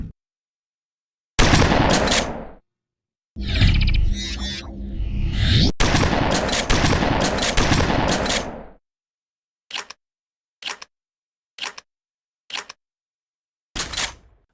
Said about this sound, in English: Accuracy is a problem with all of these shotguns, as they simply don't fire straight